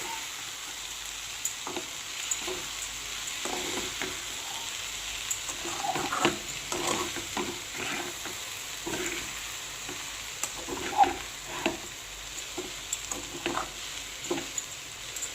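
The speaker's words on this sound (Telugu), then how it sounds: "ఒక టూ మినిట్స్ ఫ్రై అవ్వనిద్దామండి" Mixed vegetables tossed with dry coconut powder fry in a pan with a steady low sizzle, and a spatula stirs through them in repeated close scraping strokes.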